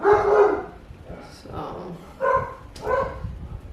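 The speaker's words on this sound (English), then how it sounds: "Sorry if you guys hear my dogs." Several dogs bark and yip in agitated bursts at a home workshop near a heat press, the barks fairly close and loud, mixed with a person talking over them.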